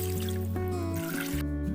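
Water poured into a pot to make stock for beef nihari, a steady splashing, trickling fill heard up close for nearly two seconds, no voices over it.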